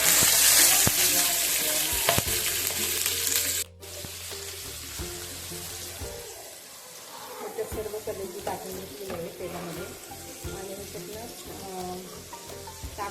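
Chicken liver pieces frying in oil in a pan on a gas stove, a steady loud sizzle with clinks and stirring scrapes, which briefly drops away before crackling resumes more quietly.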